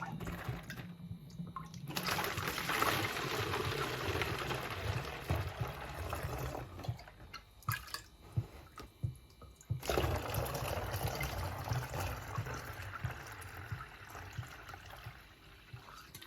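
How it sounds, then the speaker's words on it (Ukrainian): Homemade malt kvass poured into bottles that hold a few raisins each, making two long, steady gurgling pours separated by a short pause, close and fairly loud with no talking. "наливаю бутилки"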